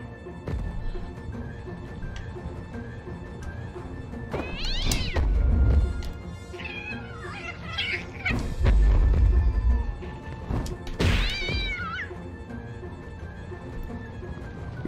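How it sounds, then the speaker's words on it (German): Cartoonish cat meows from the Rock of Ages 2 video game, several drawn-out, wavering cries in separate bursts over game noise and thuds, loud and close. "Blöde Katze."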